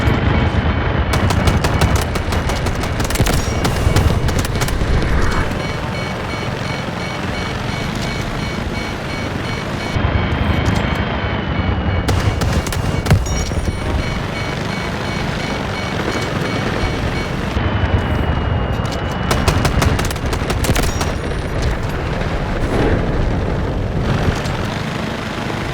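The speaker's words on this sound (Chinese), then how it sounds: "收到，炮击即将抵达" Artillery barrage and gunfire in the Delta Force video game's full-scale battlefield mode: dense, continuous machine-gun bursts and booming explosions, loud and sustained throughout with no speech.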